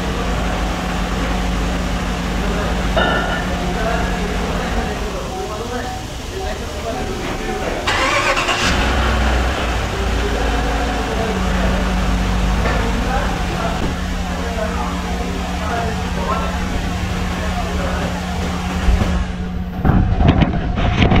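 A 2017 Chevrolet Suburban with a low-power engine fault idles and warms up. Its engine holds a steady, close mid-pitched rumble throughout, and a voice talks over it.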